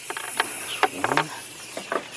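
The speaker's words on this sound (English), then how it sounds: "10mm socket with our air ratchet" An air ratchet fitted with a 10mm socket works on a 2003 Nissan Maxima 3.5 exhaust, giving a few short, faint bursts of rapid clicking and hissing air separated by brief pauses.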